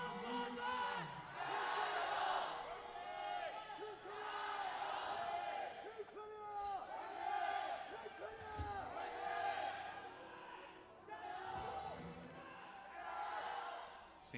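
A large crowd of fans cheers loudly and continuously at a League of Legends esports match between China and Korea at the 2018 Jakarta Asian Games, with swelling roars and whoops, while commentators talk over it.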